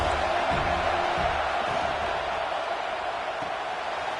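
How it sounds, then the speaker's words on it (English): A college football stadium crowd at a Notre Dame game roars as a steady, dense wash of noise, loud and unbroken throughout, with no individual voices standing out. "This crowd trying to make life miserable for this offense."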